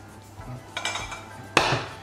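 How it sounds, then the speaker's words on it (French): Utensil clinks and scrapes against a bowl while madeleine batter is mixed, a few scattered taps then a sharper knock near the end, close and alone. "Et je mélange jusqu'à avoir une texture bien homogène."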